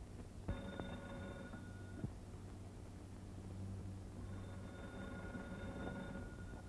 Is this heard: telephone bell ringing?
yes